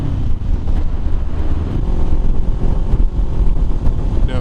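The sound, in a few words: strong gusts of wind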